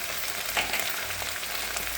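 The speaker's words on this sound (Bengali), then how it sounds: "এখন ভালো করে ভেন্ডিটা একটু ভাজা হোক" Okra fries with a steady, close sizzle in a pan after salt goes in, a continuous crackling hiss with no voices over it.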